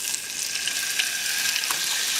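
Two large pork steaks browning in a big skillet, giving a steady, even hiss of frying throughout with no talking.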